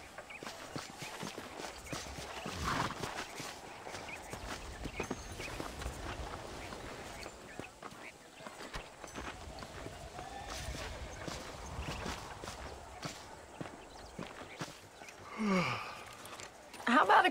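Horse hooves clip-clop in a steady walking rhythm while riding in Red Dead Redemption, moderately close, under in-game voices talking, with a brief louder scuffle near the end.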